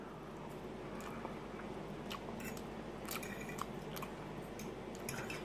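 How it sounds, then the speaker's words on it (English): Soft, close chewing and crunching of crunchy chips with irregular crisp bites over a low steady background, no talking. "I want to do one with the crunchy noises"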